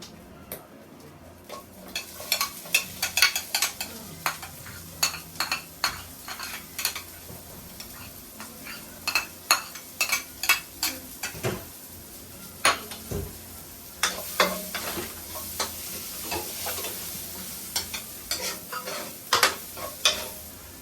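Garlic and onion fry in oil for fried rice, with a continuous sizzle broken by frequent irregular metal spatula scrapes and clanks against the pan, close and busy for a long stretch.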